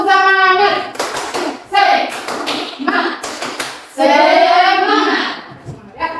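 A class of Indonesian schoolchildren performs a rhythmic spirit clap in a classroom, bursts of group clapping in patterned beats alternating with children chanting together, loud and close.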